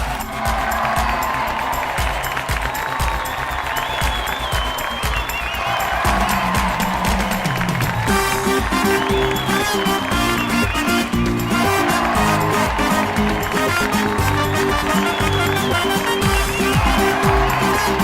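A television comedy show's studio audience claps and cheers loudly to welcome guests on stage, sustained dense applause mixed with crowd noise and music running throughout.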